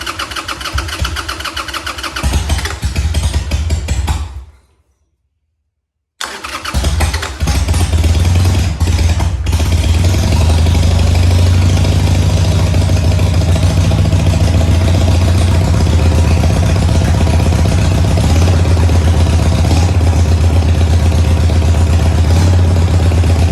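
A Harley-Davidson Sportster motorcycle cranks on its starter without choke, cuts to a brief silence, then fires and settles into a loud, steady, close rumbling idle that carries on alone.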